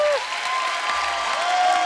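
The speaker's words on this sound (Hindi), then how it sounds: "जोरदार तालियों से स्वागत कीजिए" Studio audience at a comedy talk show breaking into applause to welcome a guest, a dense wash of clapping from a large crowd, while a faint tonal sound and a voice rise briefly above it.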